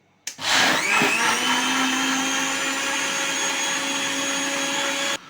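An electric blender starts with a sharp click and then runs at a loud, steady high-pitched whir while blending watermelon into a shake, holding constant for several seconds before cutting off abruptly.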